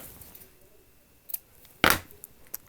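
Scissors snip the end of a thread after a sewn knot on a felt ornament, one short crisp cut followed by a couple of faint clicks, close and quiet with no talk.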